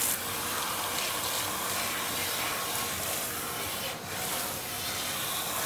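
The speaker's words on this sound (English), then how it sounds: "We're rinsing it out because it's time." Water running from a salon sink sprayer while hair is rinsed after a color correction, a continuous close hiss and splash with slight rubbing changes, no talking.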